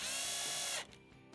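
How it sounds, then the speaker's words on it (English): A power driver whirs as screws go into the electronic control board of a Whirlpool stove under repair, a close ratcheting buzz that stops abruptly, followed by faint clicks and handling noise. "Install the 2 screws that hold the control board in place."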